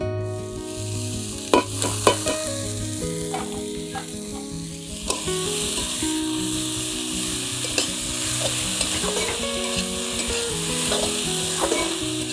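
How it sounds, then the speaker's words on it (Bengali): Boiled banana flower hitting a hot wok of fried spices, a steady loud sizzle with occasional stirring scrapes and clinks, no voices. "এবার সিদ্ধ করে রাখা মোচাটা আমি কড়াইতে দিব।"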